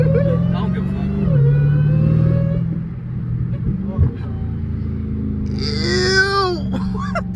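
A 1000 hp Hellcat-powered Chrysler 300 drives along with a steady engine drone and a supercharger whine that rises and falls, heard from inside the car. Excited voices talk and shout over the engine throughout.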